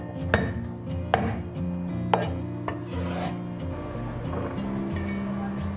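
Garlic cloves and ginger are smashed on a kitchen cutting board in a few sharp, separate knocks over a low background hum.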